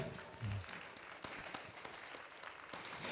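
A team at a trade show closing broadcast receives applause, faint, scattered hand claps with distinct individual pops heard at a distance, with a brief low murmur early on.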